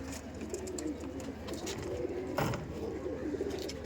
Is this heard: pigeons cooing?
yes